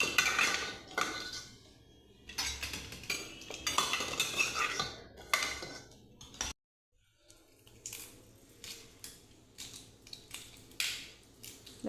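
Boiled eggs are lifted out of a pressure cooker with metal utensils, giving bursts of clinking and clattering against metal, with a brief silent pause midway before the clatter resumes.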